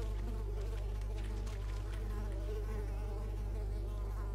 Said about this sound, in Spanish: ¿Me van consumiendo los mosquitos?